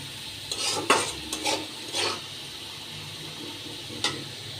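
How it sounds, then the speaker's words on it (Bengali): Potato noodles being stirred and fried in a pan, with several scraping, rattling stirs of the utensil over a steady low sizzle, close and fairly loud, with quieter gaps between strokes. "দেখো আমি নুডলস রান্না করছি"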